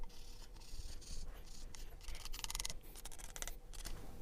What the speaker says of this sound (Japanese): この真っ平らな、部分を使ってヤスリで削ろうと思います